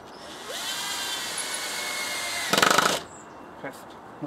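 A cordless drill driver runs a screw in with a long, steady whine of about two seconds, close by. It ends in a short, louder ratcheting burst, then a couple of faint knocks.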